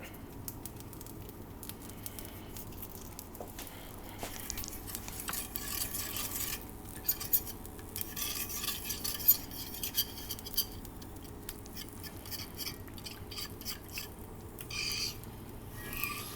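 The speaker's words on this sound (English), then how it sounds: "you want to keep stirring it because you don't want it as it gets hot to start having the thickest part stick to the bottom of the pan" Sausage gravy being stirred in a pan, quiet continuous scraping and soft patter with occasional faint clinks of the utensil, low in level and steady.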